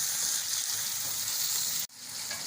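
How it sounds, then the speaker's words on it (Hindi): Loud, continuous sizzle of chicken frying in a pan for a chicken and green bean dish, close up, cutting out abruptly for a moment before resuming. "और इसको थोड़ा सा फ्राई करेंगे कि इसका कलर जो है चिकन का चेंज हो जाए।"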